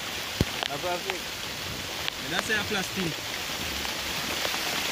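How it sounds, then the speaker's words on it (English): Steady rain patters outdoors in the evening, a dense even hiss that runs through the whole stretch, while someone talks briefly over it. "Rain."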